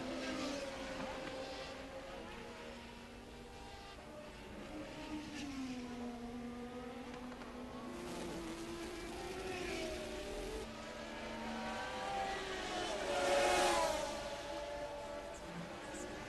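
1981 Formula One race cars scream along a track as Piquet's car passes Tambay's. Engine whines rise and fall in pitch as the cars pass, faint and distant, with a louder swell toward the end.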